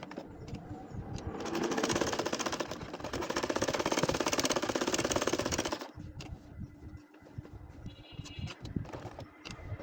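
A domestic sewing machine stitches a nakshi kantha quilt, its rapid mechanical needle chatter running loud and steady for several seconds before stopping, followed by quieter handling clicks and rustles.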